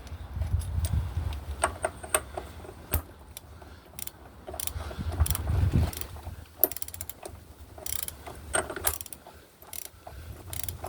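A nut being loosened with a 1/2 inch drive 36mm socket, a rapid series of ratchet clicks and metallic rattles in irregular bursts, close up and fairly quiet.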